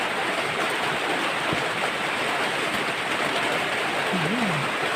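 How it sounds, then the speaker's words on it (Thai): Steady hiss of rain falling, an even wash of noise throughout with a brief faint tonal chirp near the end. "ฝนกำลังตกครับพี่น้อง"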